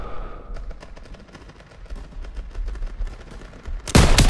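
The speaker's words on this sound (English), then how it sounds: "MGs, open fire!" Rapid machine-gun bursts crackle in a Call of Duty: WWII battle scene, dense repeated shots building over a few seconds and ending in a loud close burst.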